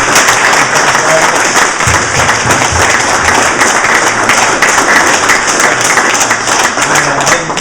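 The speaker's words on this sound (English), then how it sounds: "One more time, give a round of applause to" A crowd at a construction pre-apprentice training graduation claps and cheers for an award winner, loud, busy applause with scattered taps and thumps and some voices mixed in throughout.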